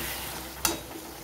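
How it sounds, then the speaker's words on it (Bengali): Fried cabbage with garam masala and ghee sizzles steadily in a pan, broken by a single quick scrape or clink of the stirring spoon midway. "আর দিয়ে দিচ্ছি 1 চামচ মতন ঘি। এবারে আমি নেড়ে চেড়ে নেব।"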